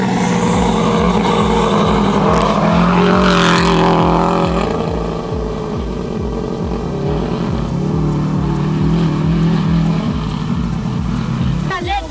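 A rally car runs hard through a gravel stage in Tanzania's Nane Nane rally, its engine droning loud and close with rising and falling revs and a rough pulsing note throughout.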